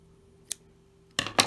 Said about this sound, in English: Then we cut the yarn again.